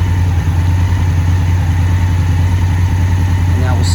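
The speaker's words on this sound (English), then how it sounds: "Start the bike." A 2017 Honda Africa Twin with a DCT gearbox idles close by, its engine giving a loud, steady low rumble that holds throughout without change.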